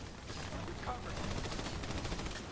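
Rapid gunfire bursts in the co-op shooter Army of Two: The Devil's Cartel, a dense continuous clatter of automatic weapons filling the whole moment at moderate loudness.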